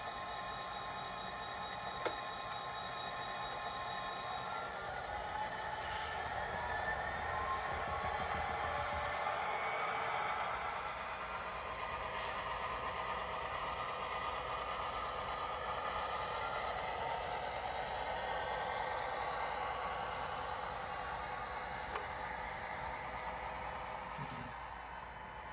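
An HO scale model train pushes freight cars backward on a modern-day layout, a steady low rolling clatter and faint rattling that runs continuously and evenly with no talking.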